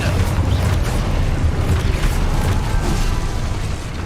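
Fiery Confringo spell blasts in Hogwarts Legacy, a dense, continuous rumbling roar of booming explosions and crackling bursts that stays loud throughout.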